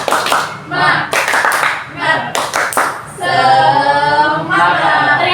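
A classroom of students performs a rhythmic clapping cheer, sharp bursts of group clapping in quick patterns, followed by the class chanting together in unison.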